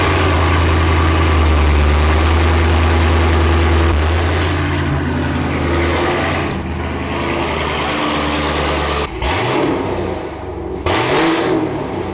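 A car engine idles close by, a steady low rumble that holds for most of the stretch before shifting and settling, with no talking over it.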